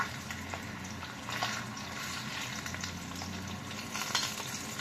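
Lomo fries in a pan with a dense, steady sizzle and crackle close by, with occasional louder pops and stirring.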